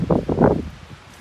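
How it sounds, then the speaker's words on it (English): Strong gusts blow through trees on Crane Mountain in the Adirondacks, giving a close, low rushing rustle in a few surges that fade within a second. "It is extremely windy. As you can see, the trees are blowing around."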